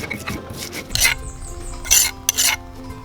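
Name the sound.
stirring spices in a cooking pot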